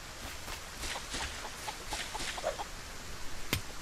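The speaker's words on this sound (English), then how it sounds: "I hear the chicken." Chicken clucking in the survival game Solarpunk, a few soft, faint clucks over a low steady background with a brief sharp tick near the end.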